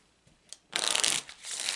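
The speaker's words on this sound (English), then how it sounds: "now that I'm shuffling" Lenormand cards being shuffled by hand: a faint soft tap, then a dense, bright riffling burst about half a second long, a short lull, and a second steady run of shuffling close up with no talking.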